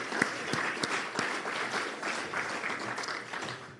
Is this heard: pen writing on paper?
no